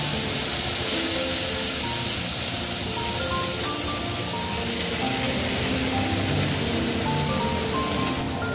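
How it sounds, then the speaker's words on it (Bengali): Ginger, cumin and dried red chilli paste, with tomato, turmeric and chilli powder, frying in a pan for a koi fish curry gives a steady, even hiss that runs throughout without a break. "এবার মশলাটা কষানো হচ্ছে।"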